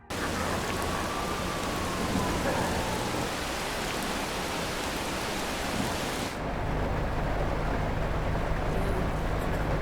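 Steady heavy rain in Mario Kart 8 hisses loudly, then abruptly shifts to a muffled, lower rumble when moving under a roof.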